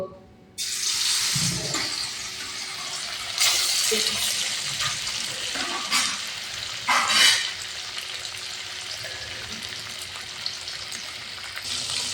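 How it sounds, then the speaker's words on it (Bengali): Chicken pieces going into hot oil for a thin tomato-and-potato chicken curry, giving a steady, close, broadband sizzle that swells in bursts as the meat is added and stirred, with no talking. "তেল গরম হয়ে গেছে মাংস দিয়ে দিব"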